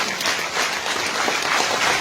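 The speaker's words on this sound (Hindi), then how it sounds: "जोरदार जोरदार ताली हो जाए। मैं रिक्वेस्ट स्टैंडिंग ओवेशन प्लीज।" Applause and a standing ovation from an audience at a Jammu and Kashmir investment event: dense, steady clapping throughout, fairly close and even in loudness, with no voices over it.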